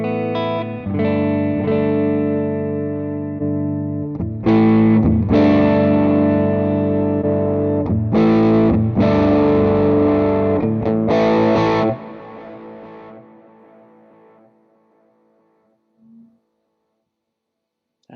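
Guitar through a Quad Cortex preset with tape delay and plate reverb, run into a 1x12 cabinet, plays loud sustained chords with repeating echoes, then trails off into long fading delay tails and near silence, no voices.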